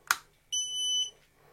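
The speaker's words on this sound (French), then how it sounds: "bip de démarrage" Startup beep from a Creality Falcon 2 22W laser engraver: a click, then a single steady electronic tone lasting about half a second, alone in a quiet room.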